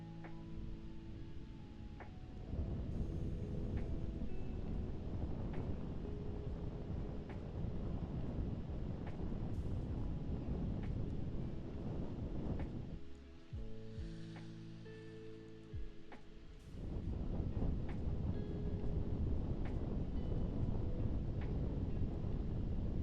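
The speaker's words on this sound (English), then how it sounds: "Wind can be very aggressive." Strong wind buffeting a microphone, a steady rough low roar that drops out briefly midway and then returns just as loud.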